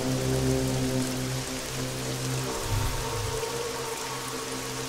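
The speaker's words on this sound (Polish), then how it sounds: "Pada deszcz, jest noc." Steady rain hisses evenly without pause at night in the video game Arma 3 (DayZ/Exile mod), a dense wash of falling drops mixed with a low droning background hum.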